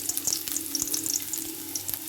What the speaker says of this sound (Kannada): ಎಣ್ಣೆ ಬಿಸಿ ಆದ ನಂತರ ಬೆಳ್ಳುಳ್ಳಿನ ಸೇರಿಸ್ಕೋತಾ ಇದ್ದೀನಿ